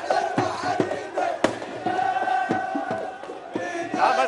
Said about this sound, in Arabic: شلون شفت تفاعل الجماهير تفاعل الجماهير اليوم في المباراة